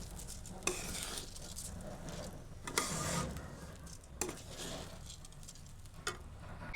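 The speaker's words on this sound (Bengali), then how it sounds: "তো প্রায় 2 মিনিটের মতো চালটি এখানে ভেজে নিচ্ছি" Gobindobhog rice is fried in a pan, a soft sizzle under repeated scraping stirs, with sharp spoon knocks against the pan roughly every one to two seconds, close and fairly quiet, with no talking.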